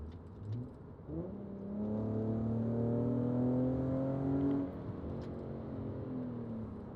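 Car fitted with a Fast Intentions catback exhaust and test pipes, heard from inside with the windows up, climbing in third gear toward 5,500 RPM with a rising drone, then easing off to a lower hum.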